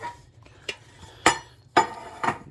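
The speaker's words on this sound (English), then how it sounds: "Need to get these pans ready." Metal muffin pans are handled in a kitchen, giving four or five sharp separate clanks and clinks spaced about half a second apart against a quiet background.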